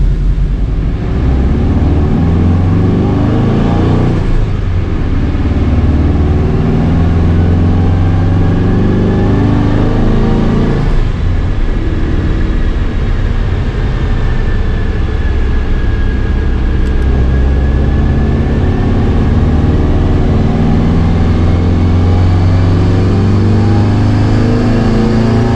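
A JDM Subaru EJ20X engine swapped into a car runs a dyno base pull, a loud, steady, continuous engine roar with a slowly rising pitch that fills the whole stretch.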